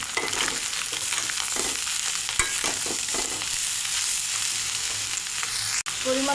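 Chopped snake gourd goes into a pan with fried fish roe, onion and turmeric. A constant, fairly close sizzle continues under intermittent stirring scrapes, with one sharp knock near the end and no speech.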